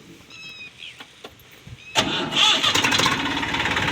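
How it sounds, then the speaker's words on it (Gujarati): A tractor engine is started with a key: quiet clicks and a brief whir, then the engine catches abruptly and settles into a rough, rattling idle, close up. "જોવો ગાઈસ ટ્રેક્ટર કઈ ચાલુ થાય"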